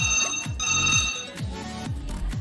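Telephone in a hotel room ringing with a repeated electronic trill, several quick bursts in steady succession, close and clear with no talk over it.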